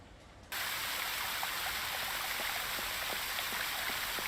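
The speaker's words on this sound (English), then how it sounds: "I think I will switch on the fountain." A fountain's water jets in the adventure game Secret Files 2: Puritas Cordis switch on after a brief quiet start, then run as a loud, steady rush of spraying water with faint droplet patter.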